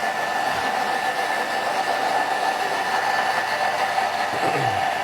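A kitchen grinder runs steadily while grinding ingredients for palak paneer or chilli lemak udang, a loud, continuous whirring drone that holds even for the whole stretch without a break.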